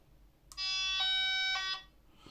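A UNI-T UT682 cable tester gives one loud, high-pitched electronic beep alone for about a second, steady and piercing, then cuts off.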